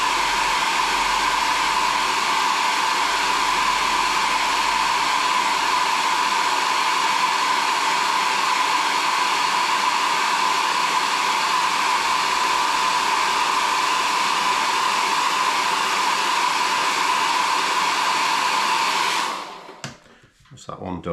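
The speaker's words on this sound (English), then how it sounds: "all we'll do is get the hairdryer" A hairdryer blows hot air onto a shoelace to shrink its tip, a loud, steady whooshing hum that runs unbroken for about nineteen seconds before cutting off with brief handling noise.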